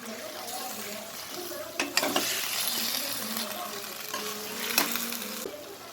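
Tomatoes, turmeric, coriander and spices frying for Chettinad chicken biryani as they are stirred in a pot, with a steady sizzle, a few utensil scrapes and clanks, and some faint background noise.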